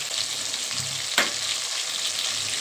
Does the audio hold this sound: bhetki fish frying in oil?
yes